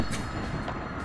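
Train rumbling steadily in the video game Party Animals, a continuous dense rolling noise that holds level throughout the short stretch, with no talking.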